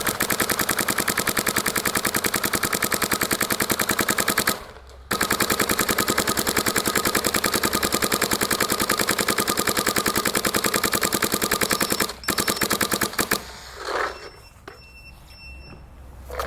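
A Dye DSR+ paintball marker running on 3,500 PSI air empties a full hopper in long, rapid streams of shots with one short pause, loud and close, before the firing stops.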